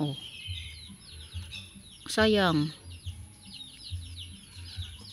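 Backyard chickens in a garden with eggplant plants give soft scattered clucks, then one louder drawn-out squawk rises near the middle; someone speaks briefly.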